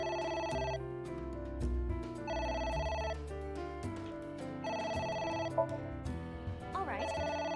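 An old-style telephone bell rings in repeated bursts inside the video game AI: The Somnium Files, each bell burst separated by pauses, over a steady layer of game music.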